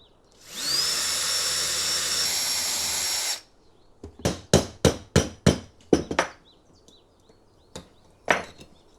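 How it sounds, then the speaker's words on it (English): A high-pitched power drill with a small bit whines steadily for a few seconds, drilling out a broken AC pin on a 12-volt adapter, then a series of sharp rhythmic taps and knocks follows nearby. "I think I'll start by using a small drill bit."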